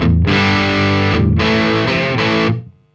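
Loud, heavily overdriven electric guitar chords through a Marshall Astoria tube amp with an overdrive pedal ring out in two sustained bursts, with a short break between, then cut off abruptly.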